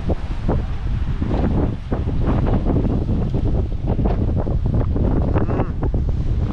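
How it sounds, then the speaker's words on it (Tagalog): Strong wind roars and buffets the microphone continuously, loud and rumbling, with the wash of surf or open water underneath, at a campsite. "Sobrang lakas ang hangin dito."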